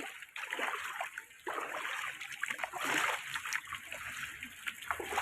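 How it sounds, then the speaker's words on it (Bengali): Water splashing and sloshing on a road flooded during heavy flooding, steady broadband wash with irregular louder surges throughout, close by and without talk. "আমাদের রাস্তাটা এই দেখো পুরোটাই পানি হয়ে গেছে"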